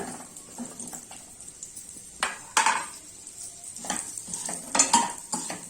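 Drumstick pods tumble into a hot pan and get stirred with a metal spoon, giving a steady sizzle with repeated scraping clinks against the pan and no talking.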